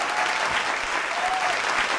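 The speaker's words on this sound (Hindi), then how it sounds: "तालियां बजाया करो तो मजा आया करो" An audience at a political talk show about Himachal Pradesh claps in a steady burst of applause that fills the space evenly, with a voice faintly audible beneath the clapping.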